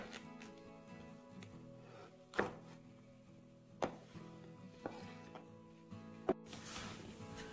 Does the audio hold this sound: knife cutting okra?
yes